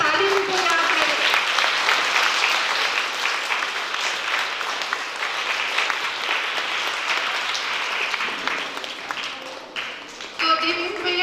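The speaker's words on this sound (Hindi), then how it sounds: "तो एक जोरदार ताली जिससे ताली भी बजा के।" A theatre audience at a session on traditional folk stage performance breaks into loud, sustained applause, dense clapping filling the hall for several seconds before tapering off near the end.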